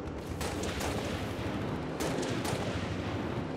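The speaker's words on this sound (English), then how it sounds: "Gunfire." Rapid bursts of video game gunfire from Halo crackle and boom in quick succession, loud and dense, with a steady rumble filling the gaps between shots.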